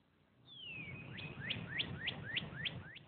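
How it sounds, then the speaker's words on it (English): Birds sing on a frozen, dewy morning at Table Rock State Park: one downward whistled note, then a quick series of about six rising chirps, fairly faint over a low background rumble. "the birds still sing over frozen morning dew"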